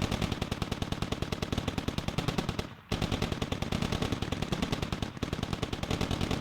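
Rapid automatic gunfire in the military shooter game Squad, a dense, loud, continuous stream of shots with two brief pauses, with no talk over it.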